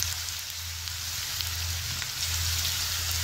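Onions frying in a pan over a medium flame produce a soft, continuous sizzle with faint crackle, steady and quiet with no talking.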